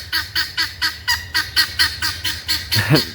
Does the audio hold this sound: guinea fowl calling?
yes